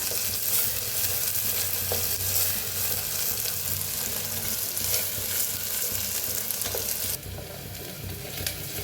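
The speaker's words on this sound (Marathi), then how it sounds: "तर कांद्याला छान भाजून घेऊया" Onions sizzle steadily in hot oil in a pan while being stirred, with a loud, continuous frying hiss and occasional scraping from the stirring, and no talk.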